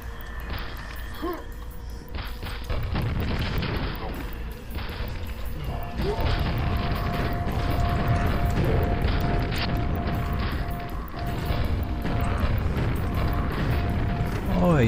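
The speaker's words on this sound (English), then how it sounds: "You survived 3 grenades." Grenade explosions in a Quake mod, heavy rumbling blasts and crashing debris that roll on loudly and continuously, with someone talking over the din.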